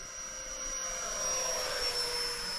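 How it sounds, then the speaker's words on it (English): A tiny radio-controlled MB-339 model jet flies overhead, a thin steady electric whine with a high sustained tone over a soft rushing hum, fairly faint and swelling slightly as it passes. "She flies pretty steady for a tiny little plane."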